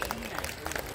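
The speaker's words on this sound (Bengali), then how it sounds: "সবাই একটু করতালি তো দিন" Audience clapping at an award event where a prize winner is honored with a tree as a gift, a dense, steady patter of many hands filling the hall at moderate loudness with no speech over it.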